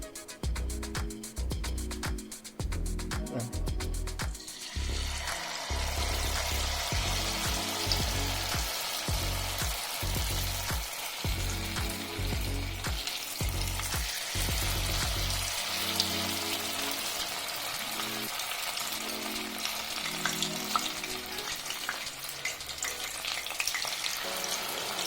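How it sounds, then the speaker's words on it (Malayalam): Stuffed paneer pieces dipped in maida batter drop into hot Saffola oil and fry with a loud, steady sizzle that swells and crackles throughout, with occasional stirring clatter and no talking. "ഇനി ഇതിലേക്ക് നേരത്തെ സ്റ്റഫ് ചെയ്ത് വെച്ച പനീർ ഈ മൈദയുടെ ഇതിലേക്ക് ഡിപ്പ് ചെയ്ത് എണ്ണയിലേക്ക് ഇടാൻ പോവുകയാണ്"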